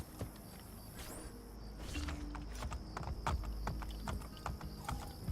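Steady clip-clop of horse hooves trotting along at an even pace in the video game Assassin's Creed: Brotherhood, with a faint neigh and a bed of ambient background noise.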